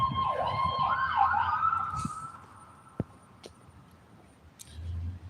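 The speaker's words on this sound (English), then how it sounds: "There's an ambulance." Ambulance siren wailing nearby, a rising and falling electronic tone that sweeps for about two seconds and then fades out, followed by faint background noise and a few sharp knocks.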